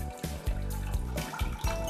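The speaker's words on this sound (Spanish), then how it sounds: "Vamos a escurrir un poquito el agua." Water from a pot of boiled ripe plantains is poured off and splashes close by in a continuous run, with small surges and drips along the way.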